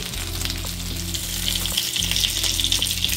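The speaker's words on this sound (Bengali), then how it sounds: "আর এটা পনিরের চপ, শ্যালো ফ্রাই করছি এটাকে একটু।" A paneer chop shallow-fried in hot oil gives a dense, continuous sizzle and bubbling close up, with a low steady hum beneath and no talking.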